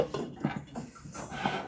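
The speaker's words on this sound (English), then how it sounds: "So I'm going to put a lid on it and just let it simmer for a while." A lid is set onto a pot of simmering creamy basil tomato soup, giving a few light metallic clinks and knocks over soft background noise.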